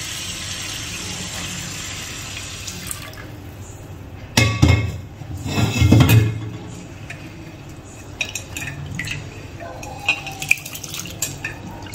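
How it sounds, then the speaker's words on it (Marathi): Rice being rinsed in a pot of water by hand, with scraping and clinking against the pot that swells into a short busy burst midway, then settles into faint scattered taps over a low steady background. "आता परत ह्याला चांगलं स्वच्छ धुवून घेणार आहे तांदूळ."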